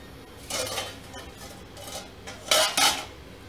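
A metal lid clanks onto a pot of South Indian–style pangas fish curry, sounding as a few sharp, close clatters of cookware with short gaps between them and a loud double clink at the end.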